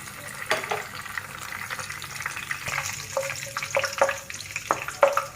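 Bay leaf, cardamom and cinnamon fry in hot oil while chicken roast is being made, giving a close, steady sizzle with crackles and small pops and occasional stirring clinks, and no one speaks.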